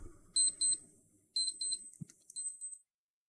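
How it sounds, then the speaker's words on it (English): A smartwatch alarm goes off in short bursts of high, piercing electronic beeps, two quick pulses, a pause, then two more groups of rapid beeps, fairly loud and close with a quiet room behind. "You hear my watch?"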